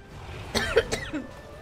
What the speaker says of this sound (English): I had to cough while I was saying that